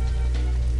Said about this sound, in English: Night, rain, lightning.